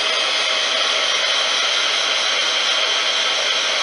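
A craft heat tool blows hot air close by. It makes a loud, steady, unbroken whoosh like a hair dryer that holds level through the whole stretch, with no talk.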